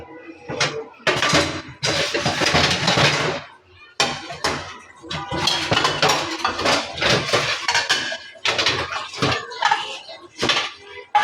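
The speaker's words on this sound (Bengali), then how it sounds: "এখন বাটি গোটা ধুয়ে নেব" Bowls and dishes being washed by hand, with repeated clattering and clinking of crockery in bursts close by, with short pauses between.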